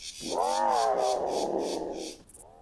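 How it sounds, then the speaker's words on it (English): Spinosaurus call in the dinosaur hunting game Carnivores 2+, a loud cat-like yowling cry with rising, wavering tones that sustains for about two seconds before breaking off, followed by a short softer tail, over faint rhythmic background noise. "That is the most alien-sounding call I've heard yet in any of the Carnivores mods."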